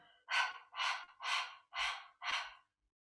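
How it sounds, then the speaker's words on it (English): Rapid yoga breath of fire during a beginner kriya set, five forceful breath bursts in a quick, even rhythm, close and fairly quiet, with no talking. "let's start with breath of fire"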